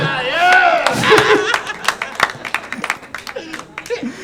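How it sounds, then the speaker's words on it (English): A stand-up comedy audience claps and laughs, the applause thinning into scattered claps, with the comedian speaking over it. "Thank you for the applause break"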